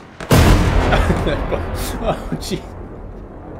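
A tank shell explosion in Hell Let Loose, a World War II shooter: a sudden loud boom that rumbles and fades over several seconds, with a person reacting under it.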